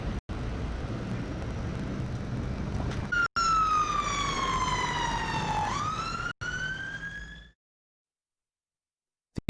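An emergency vehicle siren wails through a slow sweep in pitch, loud over a rumbling traffic background, then cuts off abruptly into silence.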